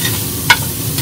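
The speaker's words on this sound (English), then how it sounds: "Kind of mixing it up with all the main beef fat" Beef stew stirred through beef and bacon fat in a pot on a Yoder YS640 smoker, a steady low sizzle with one brief scraping stir in the middle.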